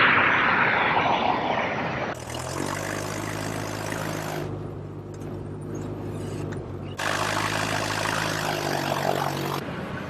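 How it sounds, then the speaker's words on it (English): Aircraft engines drone while planes taxi on an airport surface, a broad roaring hiss that swells in and out with a steady low propeller hum underneath. "You got a lot of airplane taxiing out."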